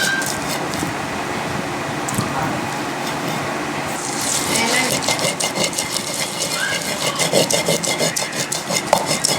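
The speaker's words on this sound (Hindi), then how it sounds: "खसखस और बादाम पीस चुके हैं।" Poppy seeds and almonds ground with a little water for almond sharbat, a steady rubbing, rasping grind that grows louder and more textured partway through, with no talk.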